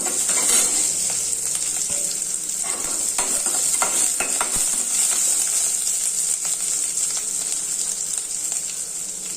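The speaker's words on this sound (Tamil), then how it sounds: "இப்போ வந்து சின்ன வெங்காயமும் ஒரு கா பச்சை மிளகாய் போட்டுக்கலாம்" Loud, continuous sizzling of small shallots and green chili dropped into a mustard seed and chana dal tempering, a dense crackling hiss with scattered pops and spoon stirs throughout, close up and without voices.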